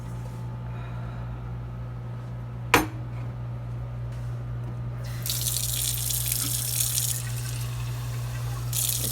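Water from a tap runs steadily into a glass, a close hissing stream that starts partway through after a single sharp clink, over a constant low hum, with no talking.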